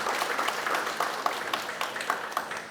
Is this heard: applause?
yes